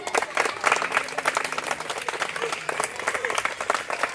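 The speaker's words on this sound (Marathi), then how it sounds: "विद्यार्थी मित्रांनो, टाळ्या वाजवायच्या।" Students clapping at a school gathering, a dense burst of applause from a crowd filling the room, steady and loud throughout.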